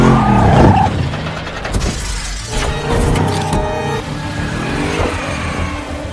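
A car engine roars and tires screech in a short skid during a car chase in Hitman: Agent 47, with a crunching impact and rumbling vehicle noise continuing afterward.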